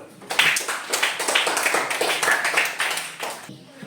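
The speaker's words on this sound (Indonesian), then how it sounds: "Kita berikan aplaus untuk kelompok 2 dulu." A classroom group claps for group 2, a dense burst of many hands rising sharply, holding steady for about three seconds, then stopping abruptly.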